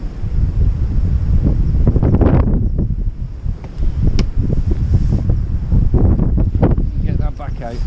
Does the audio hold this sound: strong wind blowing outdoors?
yes